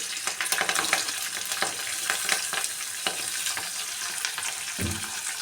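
Mustard seeds, chana dal, urad dal, green chilli and curry leaves sputter in hot oil for a tempering, a busy crackling sizzle with quick pops and stirring scrapes, with no talking.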